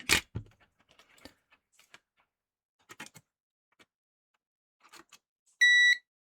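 A multimeter in continuity mode tests a Game Boy Pocket that won't turn on. A few faint clicks and taps of probe handling lead to a single clear, steady beep lasting under half a second near the end.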